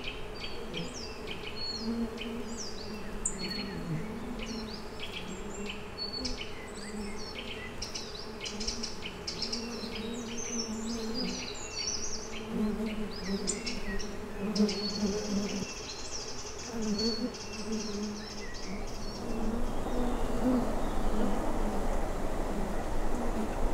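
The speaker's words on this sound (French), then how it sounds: "surtout quand on perçoit la présence d'abeilles sauvages dans les environs" Wild bees buzzing around sandy fill by old quarries in a wasteland, a steady dense insect drone throughout with faint bird chirps above it, swelling louder near the end.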